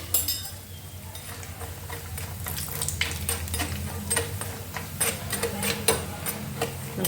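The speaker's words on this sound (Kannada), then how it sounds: "ಈಗ ಗೋಡಂಬಿ ಕರಿತೀನಿ ನೋಡ್ರಿ ಗೋಡಂಬಿ ಕೂಡ ಎಣ್ಣೆ ಒಳಗೆ ಸ್ವಲ್ಪ ಫ್ರೈ ಮಾಡಿಕೊಡ್ರಿ" Cashews frying in oil in a pan while making avalakki chuda, a steady close sizzle with light stirring and occasional spoon clicks against the pan throughout.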